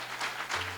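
A church congregation claps and praises during a wedding service, the applause a steady wash of many hands at moderate loudness and swelling slightly near the end, with a low hum beneath.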